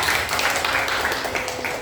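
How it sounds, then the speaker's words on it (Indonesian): Students in a classroom clapping for a group, a short, dense patter of many hands at an even level. "Oke, beri tepuk tangan untuk kelompok Elia."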